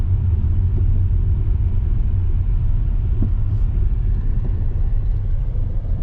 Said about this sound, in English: So I'm currently driving on the path.